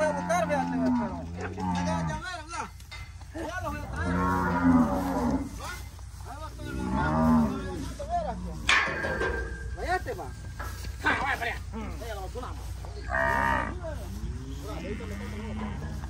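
Cattle on a farm moo repeatedly, deep drawn-out calls close by, while people shout and talk over them throughout.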